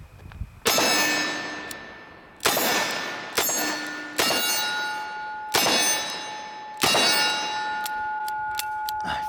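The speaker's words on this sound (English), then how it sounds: "we're gonna single action that first round on the 357 Magnum." A Smith & Wesson 686 revolver fires 357 Magnum rounds, six sharp, loud gunshots spaced about two seconds apart, each leaving a ringing metallic decay.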